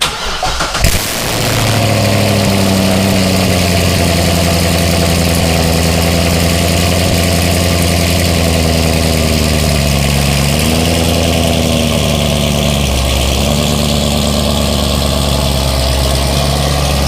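A C6 Corvette engine cranks and catches with a loud start, then settles into a deep, steady, throaty idle that continues close by.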